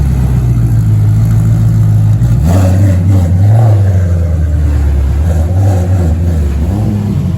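Lexus SC300 with a 655 hp setup rolling into a shop at night, its engine rumbling loud and close with a rise in revs partway through, no talk.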